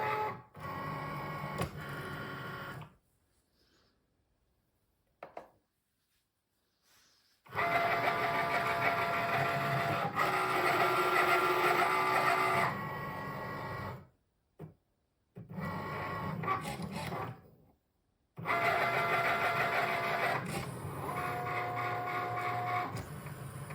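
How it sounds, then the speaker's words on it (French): A Cricut cutting machine scores a template on its mat with a fine-point blade, giving a steady mechanical whirring and buzzing in several separate bursts with short silent gaps between them. "on va passer sur le tapis avec d'abord la découpe du gabarit avec la lame à pointe fine"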